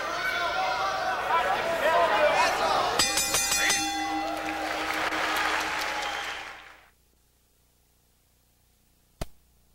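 A crowd at a World Middleweight kickboxing championship bout in Anderson, Indiana, applauds and cheers as round two ends, a dense sustained roar that fades away after several seconds, leaving near silence broken by one brief click.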